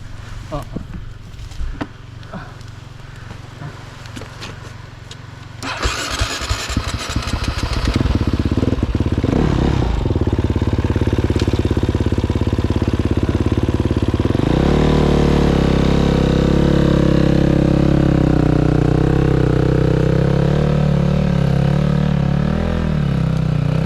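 An enduro motorcycle engine idles with a rough clatter, then revs up and holds a loud, steady drone close by, with voices faintly underneath.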